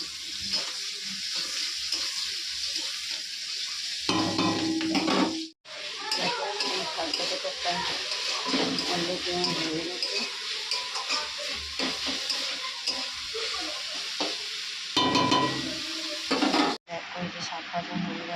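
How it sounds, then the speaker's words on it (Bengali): Leafy greens fry with onion and chili in a hot pan, giving a continuous loud sizzle with scraping stir strokes and two brief pauses, while a voice talks over it. "এখানে আমি শাক ভাজাটা বসিয়ে দিয়েছি তো পেঁয়াজ লঙ্কাটা আমি ভাজা ভাজা করে নিই"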